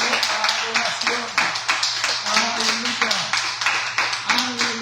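A congregation at a Spanish-language worship service claps for the Lord in a steady, rhythmic pattern, evenly spaced hand claps under a talking voice and a low sustained tone.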